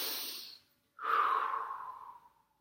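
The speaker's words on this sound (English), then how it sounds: "take 5 breaths. Deep, long, smooth" Slow, deep breaths during seated yoga: one soft exhale fades out, then after a brief pause a long, smooth breath swells and trails off, close and quiet with no talking.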